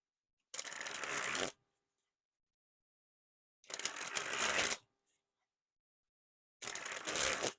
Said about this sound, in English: first we'll start with the spring ability of the cards